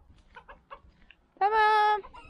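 A rooster, in a rooster-fighting context, clucks softly in short bursts and then lets out a loud, drawn-out crow close by, with faint voices in the background.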